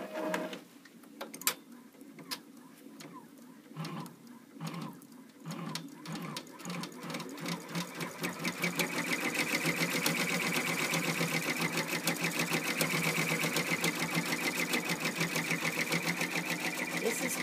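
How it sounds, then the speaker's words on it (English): Brother PR1000e embroidery machine: scattered clicks and handling noises at first, then the machine starts stitching and settles into a loud, steady, fast rhythmic chatter that carries on to the end. "now I'm going to hit sewing and verify that everything looks like it's on the right spools"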